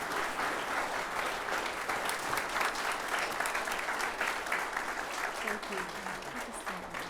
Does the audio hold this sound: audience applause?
yes